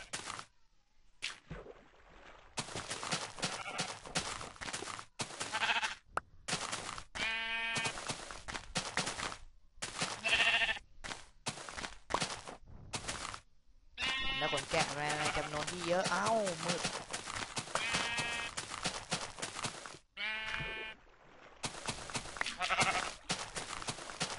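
Sheep bleat repeatedly in Minecraft, wavering cries scattered across a long stretch, mixed with game sounds and heavy talk throughout.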